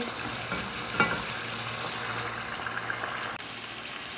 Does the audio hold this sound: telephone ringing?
no